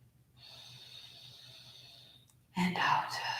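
A slow in-breath during seated chair yoga for elders, a soft steady airy hiss lasting about two seconds, close and quiet, ending in a brief louder rush of breath.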